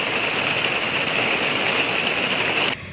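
Heavy rain falls steadily on a rural dirt-road campsite in Tennessee, a dense, loud hiss of drops that continues evenly before dropping off abruptly near the end.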